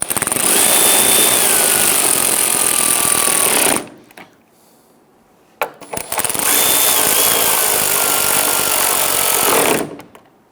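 Power tool, likely an impact driver, snugging down radiator mounting bolts on a 2011-2019 Ford Explorer: two loud, sustained buzzing bursts of about four seconds each, separated by a short pause, with no talk.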